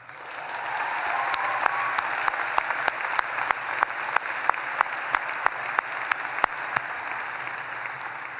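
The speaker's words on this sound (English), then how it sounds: "Please join me, as you already have done several times, in a round of applause for all of our mothers, our fathers" Sustained round of applause from a graduation audience at a 2014 School of Public Affairs commencement, dense steady clapping with sharp individual claps popping out, filling the whole stretch without speech.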